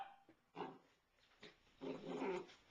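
A puppy makes a few soft growls and whimpering yips, close and faint, in short bursts separated by brief quiet gaps.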